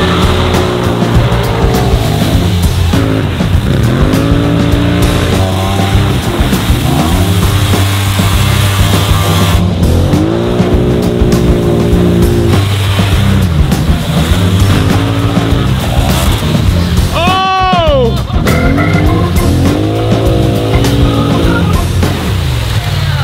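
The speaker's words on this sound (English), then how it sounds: "The only thing we haven't done is put it in the mud." A heavy utility quad four-wheeler of roughly 800 to 900 pounds churns through mud, its engine revving and surging loudly up close with repeated rising and falling pitch sweeps.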